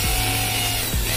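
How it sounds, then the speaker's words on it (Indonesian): A PROHEX electric impact drill in hammer mode boring into a concrete floor with a 10 mm masonry bit, a loud steady grinding whine with a brief dip near the end. "Kita lakukan pengeboran lantai dengan posisi hammer dan cukup kuat juga untuk melakukan pengeboran."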